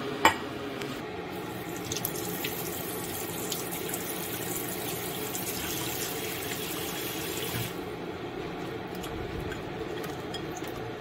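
Regular tap water running into a bowl to soak dried black fungus: a steady, continuous stream of splashing water, fairly soft and unbroken throughout.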